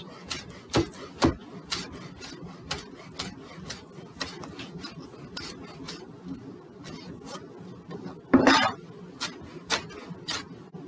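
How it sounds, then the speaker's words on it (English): Big kitchen knife chopping green onion on a cutting board, a steady run of sharp, close taps with brief pauses and one louder clatter, no talking. "I'm going to chop up our green onion for the garnish"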